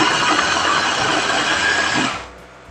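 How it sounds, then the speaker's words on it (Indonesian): Blender grinding spice paste ingredients for an Indonesian chicken rica-rica dish, a loud steady whir with dense high-pitched grinding that runs continuously, then cuts off sharply near the end as the motor stops. "Kita haluskan bahan untuk bumbu halusnya"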